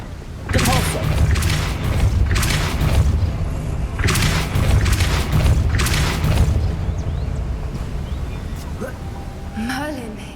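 The Depulso force spell is cast in Hogwarts Legacy, giving several heavy booming bursts in quick succession, then fading into softer magical chimes and rumble near the end.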